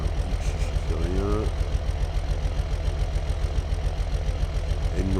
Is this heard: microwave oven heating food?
no